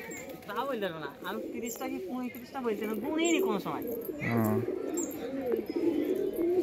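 Pet pigeons in a flock of about thirty coo in low, throaty bursts under steady conversation between men, with one deeper coo standing out partway through.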